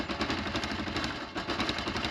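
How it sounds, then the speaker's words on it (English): A cold motorcycle engine being revved, running rough with a steady, pulsing putter and slight swells in loudness, heard alone up close. "So let's see if I can get it to rev up a little bit."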